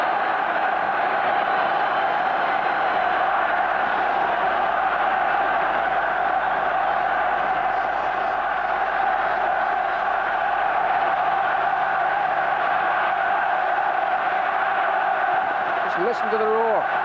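A packed football stadium roars through a 1989 World Cup qualifier between Ireland and Spain, a dense, sustained crowd din that stays loud and unbroken, with faint voices near the end.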